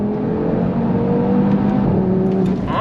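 An Audi TT RS engine revs toward the red line under throttle, a loud, close, rising drone with shifting harmonic tones and no talk over it.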